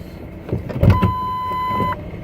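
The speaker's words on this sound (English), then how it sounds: "My door's broken, so I have to roll my window down to get out." A car's power window rolls down with a steady, close electric motor whine lasting about a second, after a few soft thumps and handling noises inside the car.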